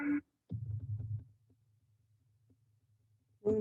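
A larger star's oscillations, sonified into audible sound, come through as a deep, low throbbing hum that pulses briefly and then fades into a faint rumble, with a voice speaking just before and after.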